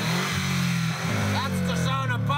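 A motor engine revs hard with a steady low drone and rising pitch swells, loud and close, blending with shouting voices over it.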